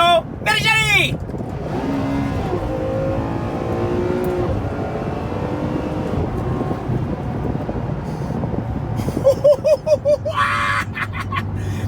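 Ferrari 599 engine blipping through rapid downshifts from sixth gear, a loud rising and falling V12 roar with sharp rev spikes near the start and a burst of quick blips near the end, with people talking over the cabin noise.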